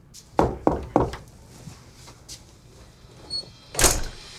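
A door being opened at a house, a few sharp knocks or thunks followed by quieter rattling and a louder handle-and-swing sound near the end, recorded close with no talking.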